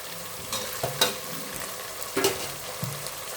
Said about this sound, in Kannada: ಈಗ ಟೊಮೊಟೊನ ಹಾಕ್ತಾಯಿದ್ದೀನಿ.